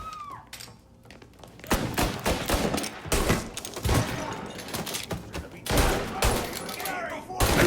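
Gunfire in Mafia Definitive Edition, a shootout of loud rapid bursts and scattered shots with thumps, close and intense, continuing as characters shout over it.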